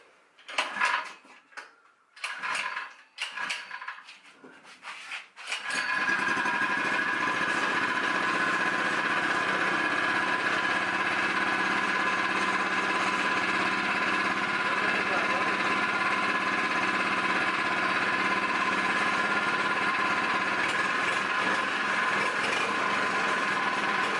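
A few sharp pull-cord tugs and rattles, then a Predator 79cc small gasoline engine sputters to life and settles into a loud, steady idle that runs on.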